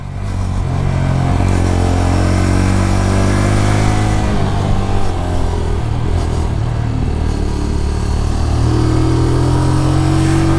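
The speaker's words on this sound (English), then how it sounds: "It's not a very fast bike. It's a 125, but it's not actually bad" A MITT GP 125 motorcycle's 125 cc engine while riding, a loud steady drone close up that climbs and dips in pitch through gear changes, with wind noise over it and no talking.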